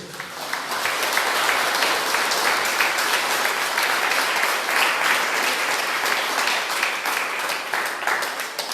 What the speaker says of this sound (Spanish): Quiero que le dé un aplauso fuerte al Señor.